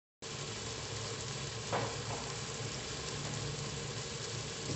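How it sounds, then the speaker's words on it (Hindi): Potatoes and green beans being stirred in a pan on the stove, a steady close sizzle with soft scraping from the spoon and one louder scrape midway, no talking over it. "तो देखिए मिक्स कर रही हूँ अच्छी तरह से, सब कुछ इसमें मिक्स हो जाएगा।"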